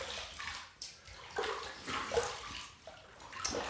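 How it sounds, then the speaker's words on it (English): Water splashes and sloshes at a bathroom sink as hands wet the face before a shave, a series of close, uneven wet splashes and drips with no voices. "let's wet the face"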